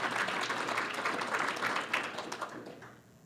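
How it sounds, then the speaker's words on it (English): A meeting audience applauds in a short burst of fairly faint, dense clapping that tapers off over about three seconds. "give yourselves a round of applause for making Farm happen"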